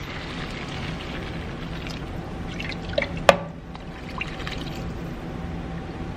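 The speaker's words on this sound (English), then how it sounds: "now in goes my 4 cups of beef broth" Beef broth, four cups, pours into a cooking pot as a continuous close liquid trickle with a few drips and a sharp clink of a container partway through.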